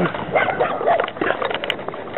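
A dog barks in a series of short, uneven yips and woofs, fairly close but muffled, in a town setting with some background noise.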